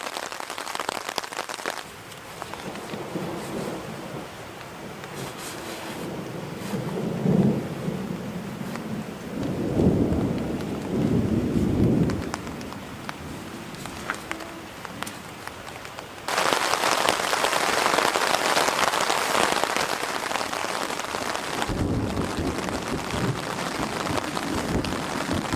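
Rain falls steadily around a wilderness camp, a broadband hiss that swells heavier and louder in the latter half, with low rumbling patches mixed in and no voices.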